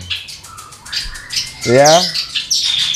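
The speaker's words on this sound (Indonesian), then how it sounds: "Ini cibleknya aja kepala merah ini, perenjak kepala merahnya gacor" Close, loud songbird calls from a red-headed prinia: thin high chirps and a harsh squawking burst, with someone speaking briefly alongside.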